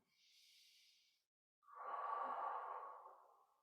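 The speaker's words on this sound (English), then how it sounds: "Breathe a couple deep breaths." Deep breaths taken while holding a core stability exercise pose: a soft airy inhale followed, after a brief pause, by a longer, fuller exhale, close and clear with no talking.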